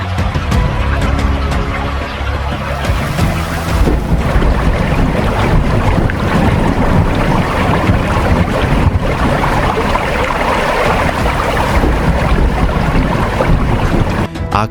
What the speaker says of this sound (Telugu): గాలి బలంగా వీచింది